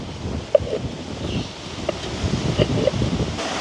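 Wind gusts outdoors in a village during an open-air meal buffet the microphone in an uneven, rumbling rush, broken by a few small knocks and clicks.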